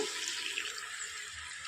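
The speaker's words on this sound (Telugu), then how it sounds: "ఇందులోనికి కాచి చల్లార్చుకున్న పాలు పోసుకోవాలండి" Boiled and cooled milk poured into a pan of snake gourd curry, a steady close splashing pour lasting the whole moment, with no voices.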